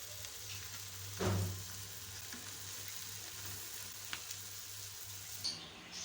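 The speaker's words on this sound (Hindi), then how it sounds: "मीडियम फ्लेम पर हम इनको फ्राई करेंगे।" Beef boti resha kababs fry on a medium flame, a soft steady sizzle in the pan broken by one louder sputter and a few faint clicks.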